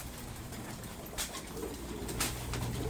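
Pigeons cooing in a loft at feeding time, low soft coos under steady background rustle and noise, close and fairly quiet, with no talk.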